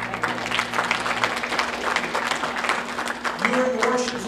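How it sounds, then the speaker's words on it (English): Congregation clapping in praise at a Sunday morning worship service, steady dense applause throughout with faint talk and a sustained organ-like tone underneath. "Give the Lord a hand clap of praise."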